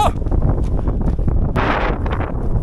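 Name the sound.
strong wind at a windy pass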